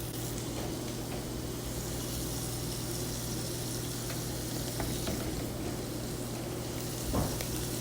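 Scallops searing in a crowded hot pan give a steady, soft broadband sizzle throughout, with a low constant hum underneath and a brief louder bump near the end.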